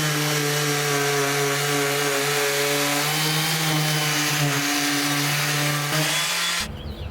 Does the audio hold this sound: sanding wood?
yes